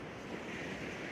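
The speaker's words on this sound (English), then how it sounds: "You can see behind me the Pacific Ocean." Pacific Ocean surf on the Oregon coast at low tide, a steady wash of breaking waves mixed with gusty wind buffeting the microphone, continuous and fairly soft with no talking.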